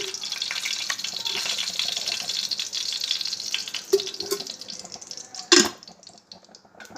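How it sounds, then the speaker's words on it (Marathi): Cooking oil poured into a tava and heating up gives a steady, bright hiss, close by, with a few soft clinks and a louder sizzling burst near the end. "सगळ्यात पहिल्यांदा आपल्याला तेल घालायचे तव्यामध्ये"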